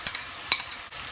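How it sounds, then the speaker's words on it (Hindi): Spinach-potato curry with yogurt being fried in oil in a pan, heard as two quick scraping stirs over a soft background sizzle. "हम इसे भून लेंगे।"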